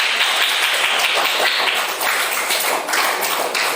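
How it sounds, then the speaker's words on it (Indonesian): Applause from a group of teachers for the third group at a coaching practice session, a steady dense wash of clapping that holds throughout at moderate loudness with no voices over it. "Beri aplaus untuk kelompok 3"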